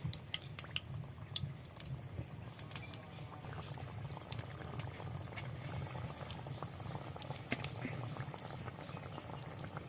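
Sweets made from flour and sugar fry in hot oil, a soft continuous bubbling with scattered sharp pops and crackles, fairly quiet and steady throughout, no voices.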